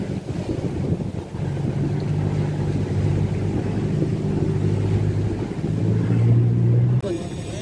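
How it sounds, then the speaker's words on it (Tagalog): A motorboat engine drones steadily at close range as the boat slows in a narrow channel, its low hum shifting pitch near the end, over wind and water noise. "Kaya nagminor na yung bangka kasi makitid yung daan."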